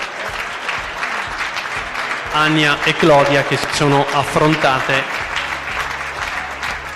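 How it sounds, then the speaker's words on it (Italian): Applause for two under-18 women's volleyball teams after a third-place final, a broad crowd wash under a voice announcing over a loudspeaker, fading near the end. "Un applauso tutte e due le squadre"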